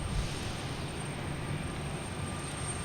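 A JetBlue Embraer 190 jet backing up and taxiing at Boston Logan Airport, a steady broad engine rumble with a thin high whine on top, constant and moderately distant.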